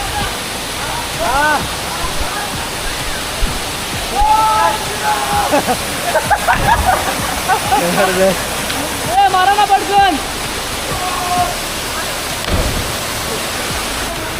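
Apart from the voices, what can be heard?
waterfall, water falling down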